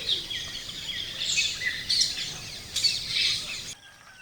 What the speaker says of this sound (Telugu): ఈ యానిమల్స్, బర్డ్ సౌండ్స్,